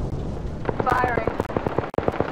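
Automatic gunfire from the video game Apex Legends sounds as a rapid, even burst of about a dozen sharp shots. A player's voice can be heard briefly underneath.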